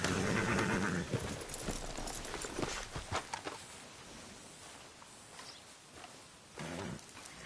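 Horse hooves clip-clopping in Red Dead Redemption 2, a galloping rhythm that starts loud and busy, then fades into quieter, sparser hoofbeats.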